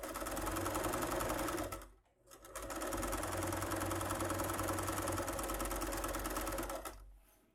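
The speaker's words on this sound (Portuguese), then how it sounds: "eu tô costurando com a margem de 1 centímetro" Sewing machine stitching a fabric makeup bag with a 1 cm seam allowance, a fast steady mechanical whir running about two seconds, pausing briefly, then resuming for roughly four more seconds before stopping.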